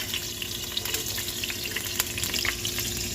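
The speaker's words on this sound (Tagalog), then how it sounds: "Ngayon, manggigisa na po tayo. Lagay na natin yung ating butter" Onion and garlic sautéing in butter in a pot for a goat rib stew, a dense continuous sizzle up close with scattered pops and crackles throughout.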